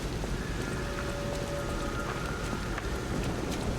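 Steady rain falling in the video game Lies of P, a dense, even hiss of drops on surfaces throughout, with faint tonal game sounds drifting underneath.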